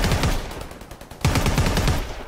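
Gunfire in a video game firefight, loud rapid automatic bursts in two close runs of repeated shots, with no talking.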